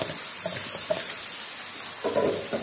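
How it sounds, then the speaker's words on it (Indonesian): Shrimp cook in a spice paste with a quiet, steady sizzle, broken by a few scraping strokes of stirring in the pan. "Nah, setelah tadi bumbunya matang, masukkan udang ya. Diaduk-aduk sampai udangnya juga matang."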